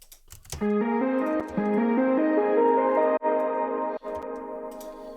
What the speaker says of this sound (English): And we're just going to increase the reverb.